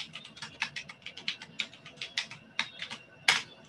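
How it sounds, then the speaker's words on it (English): Keys clatter on a computer keyboard while text is typed into LaTeX software, a quick irregular run of close, crisp taps with one harder keystroke near the end, no voice over it. "So I'm just typing something."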